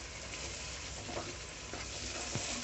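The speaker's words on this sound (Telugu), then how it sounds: "ఇప్పుడు మీడియం ఫ్లేమ్లో వేగనిద్దాం." An egg curry mixture with tomato paste fries on a medium flame in a pan, giving a steady close sizzle with soft scraping strokes from stirring, heard alone.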